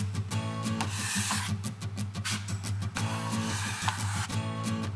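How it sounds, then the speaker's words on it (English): Drywall compound spread along horizontal seams between drywall sheets with a 6-inch taping knife, giving a continuous close scraping rasp in repeated strokes over a steady low background hum. "apply the compound along the horizontal seams between the drywall sheets using the"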